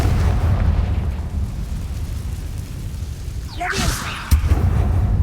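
An explosion spell is cast in the wizarding video game Hogwarts Legacy, setting off a sudden fiery burst and boom near the end, preceded by a whooshing sweep over a low, rumbling background.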